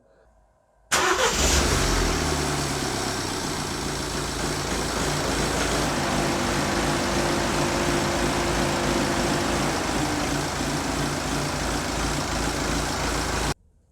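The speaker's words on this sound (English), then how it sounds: "I'm gonna start the engine" A 1.6 diesel Mini One D engine cranks and catches, then settles into a steady, loud idle that rumbles on evenly for over ten seconds before cutting off.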